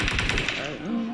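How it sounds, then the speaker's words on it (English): Rapid automatic gunfire in a first-person video game rattles in a fast burst, then fades as a voice starts speaking over it. "I hear gunshots."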